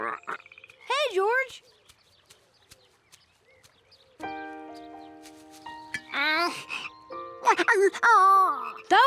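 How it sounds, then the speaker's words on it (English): Frogs near a pond in a cartoon croak loudly in repeated bursts, rising and falling calls that alternate with brief pauses and a cluster of tonal notes, clear and close with no talk over them. "These loud frogs probably scared the tadpoles away."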